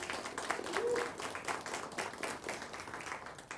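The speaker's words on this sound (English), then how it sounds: "Let's give them one more round of applause." Faint audience applause at a 2021 Teacher of the Year and School-Related Employee of the Year awards show, steady clapping from many hands heard at a distance for several seconds.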